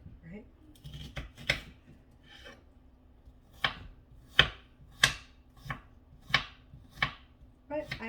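A knife chops onions on a cutting board for pico de gallo, with sharp, distinct taps coming in uneven bursts, close and fairly quiet, and a faint background hum between the cuts.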